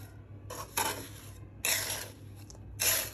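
Chocolate gujiya filling being mixed in a bowl: three bursts of scraping and clinking from a utensil against the bowl, separated by short pauses, close and moderately loud, with no talking.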